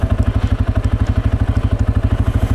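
A CFMOTO 520L quad's engine idles in neutral, a steady close, loud, rapidly pulsing thump with a mechanical clatter over it, holding an even rhythm throughout.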